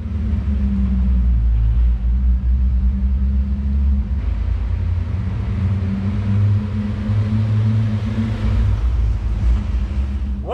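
A 20-year-old BMW M5 with a V8 and six-speed manual rumbles steadily at idle or low revs, a deep continuous drone throughout with no talking over it.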